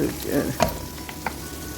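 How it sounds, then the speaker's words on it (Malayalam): Onion sautés in a pan with a steady close sizzle, with a couple of soft scrapes of a spoon stirring through it. "സവാള ഇട്ട് വഴറ്റി"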